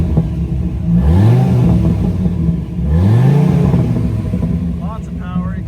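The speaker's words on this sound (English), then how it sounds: "let's give it a few revs" A 2005 Dodge Viper SRT10 with its 8.3-litre V10 is revved hard twice near the exhaust, each blip rising and falling loudly while someone talks over it.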